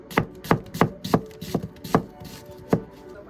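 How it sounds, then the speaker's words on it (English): Kitchen knife chopping onions into thin strips on a cutting board, seven crisp, evenly spaced chops close up and alone, with a steady rhythm and brief pauses. "Cut all of your onions into nice thin strips."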